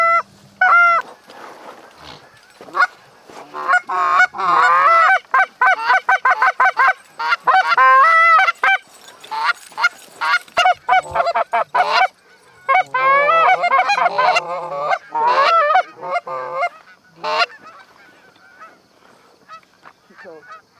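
Geese honk repeatedly during a Michigan waterfowl hunt, a busy flock of loud, overlapping calls close by, coming in bursts across the whole stretch with short quiet gaps.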